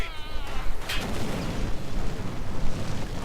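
Anti-tank grenade blast in the World War II strategy game Company of Heroes 2, a loud booming explosion with a rumbling tail, preceded by a brief whine, alone without speech.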